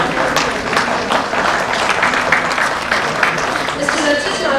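A corporate summit audience applauds during a panel discussion, dense clapping throughout, with a voice faintly over it.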